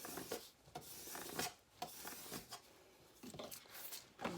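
Vinyl being rubbed down onto a wooden sign with a small tool: soft, close scraping strokes in an uneven rhythm, faint and alone.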